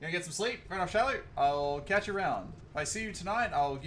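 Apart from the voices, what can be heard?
No distinct noise like a dog, phone or traffic.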